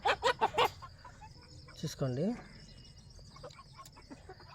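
A quick burst of clucking from three-to-four-month-old chicks, mostly young cockerels, then a longer squawk, followed by quieter background chatter and a brief spoken word.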